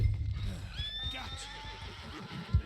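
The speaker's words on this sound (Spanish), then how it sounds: "Es una mula." An equine animal in Red Dead Redemption 2 lets out a loud, wavering whinny-like call near the microphone, with a few soft hoof thuds and a low rumble around it; no one speaks.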